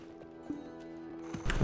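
Horse hooves clip-clop in the online game Black Desert Online, a quiet, even run of hoofbeats over a steady musical background, with a louder burst near the end.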